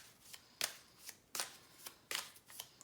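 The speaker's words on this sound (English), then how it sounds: "We'll just shuffle and see what it has to tell you." Oracle tarot cards being shuffled during a reading, giving a run of quick papery riffles in short bursts, close and clear with no voices.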